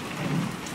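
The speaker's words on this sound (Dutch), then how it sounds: "Het is beginnen regenen." Rain beginning to fall outdoors under stormy clouds, a steady dense hiss of drops across the whole stretch, with no one speaking.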